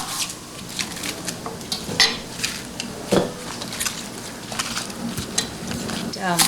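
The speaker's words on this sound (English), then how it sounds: "right now I'm cutting it into quarters" Knife chopping Shanghai bok choy into quarters on a cutting board, a series of sharp, close clacks at an uneven pace over faint background noise.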